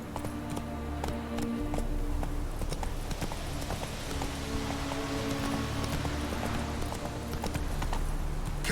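Hoofbeats of Roach, Geralt's horse in The Witcher 3, clatter in a quick, steady galloping rhythm, fairly faint and continuous with a soft rain-like hiss underneath.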